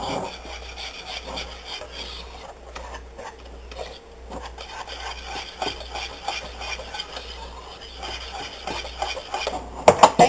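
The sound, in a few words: whisking flour into liquid English muffin batter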